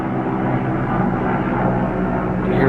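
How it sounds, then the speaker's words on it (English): An airplane passes overhead on a chilly Saturday evening in the Midwest, a steady broad engine roar that swells slightly toward the end, with no voices over it. "You hear the plane overhead"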